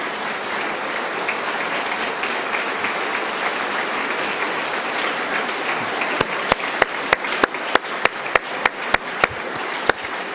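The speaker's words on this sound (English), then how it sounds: "Let's give them a round of applause." A crowd at the Ohio State of the State address applauds in a steady wash of clapping, with a few louder, sharper individual claps standing out near the end.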